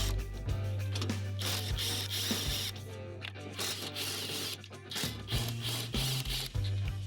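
A ratchet loosens the battery tray fasteners on a 2013-2019 Nissan, with quick clicking turns and scraping metal handling heard close up in short bursts, over a low mechanical hum.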